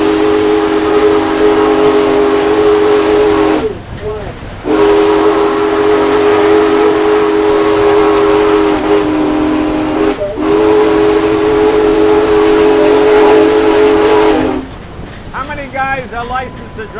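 A Union Pacific Big Boy steam locomotive sounds its whistle in three long, loud, steady blasts with brief breaks between them, and a hiss of steam continues underneath.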